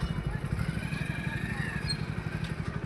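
A motorcycle engine runs nearby with a steady low putter and rumble in a temple parking area, with no one talking over it.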